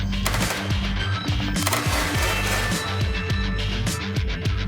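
A Fort automatic rifle (Fort 228/229 family) fires rapid continuous bursts at close range, loud crackling reports repeating densely throughout with no talk.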